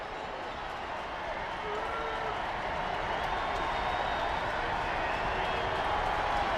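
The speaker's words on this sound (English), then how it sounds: "This preseason crowd making some noise in Empower Field at Mile High" A preseason NFL crowd at Empower Field at Mile High, Broncos hosting the Cardinals, makes a steady, far-off roar of cheering and noise that builds slightly throughout, with faint voices mixed in.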